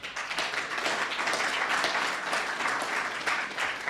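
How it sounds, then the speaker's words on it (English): A crowd at a political talk on January 6 cases claps for a civil attorney seated in the back, a dense, steady round of applause that holds at full strength for several seconds with no voices over it. "Round of applause for Thomas."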